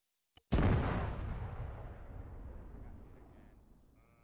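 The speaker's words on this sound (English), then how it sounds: "I just heard an explosion from that direction" A single loud, close explosion in a Warhammer 40,000 Cadian-themed shooter game bursts in after a tiny click, then rumbles and decays slowly over several seconds with no talk over it.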